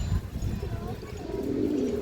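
A lively loft pigeon gives low cooing calls up close, a short run of soft murmuring notes building toward the end.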